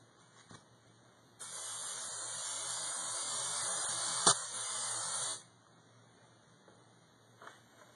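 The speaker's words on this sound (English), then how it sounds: "I'm going to spray the contact adhesive" Contact adhesive sprayed from an aerosol can onto foam and the back of a sheet of paper, heard as one steady, close hiss lasting about four seconds with quiet moments before and after.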